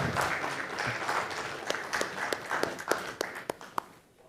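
A crowd applauds at a critical care medical conference in Nagpur as a plaque is presented to Dr. Nirmal Jaiswal, steady clapping thinning out toward the end into a few sharp, separate claps.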